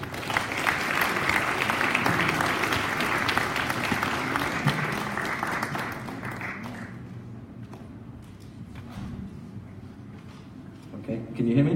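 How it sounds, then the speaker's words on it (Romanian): Audience applause welcoming a speaker at an evening talk on rational faith, a dense steady roar of clapping that thins and fades midway, leaving softer room noise and murmuring voices near the end. "Haideți să-l aplaudăm pe Calum și să pornim seara asta"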